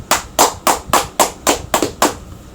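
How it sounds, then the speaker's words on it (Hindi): Eight evenly spaced sharp claps in a steady rhythm, loud and close, with no voices. "प्रभु यीशु मसीह जी की महिमा के लिए तालियां।"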